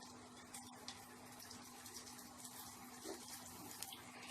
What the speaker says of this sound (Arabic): هجيب ميه سخنه وهفضيها دلوقتي في الصينيه بتاعتي